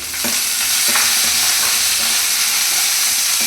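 Okra dropped into hot tempering oil for sambar and stirred, giving a loud, steady sizzle with scraping stir strokes throughout and no talking.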